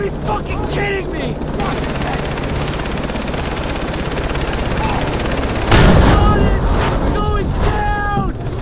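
A helicopter's beating rotor and engine roar in Far Cry 3 combat, a steady loud drone that swells sharply partway through, mixed with gunfire and shouting voices.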